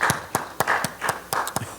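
Church congregation clapping in welcome for a deacon marking three years of membership, a handful of sharp, separate claps in uneven rhythm, close and fairly loud.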